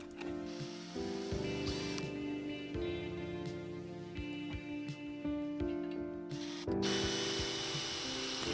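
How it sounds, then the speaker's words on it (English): A power drill whines in repeated bursts, pitch shifting as it bites into a metal car panel drilling plug-weld holes, with short pauses and a final stretch of higher-pitched grinding. "I'm just going to drill out a bunch of holes for plug welding"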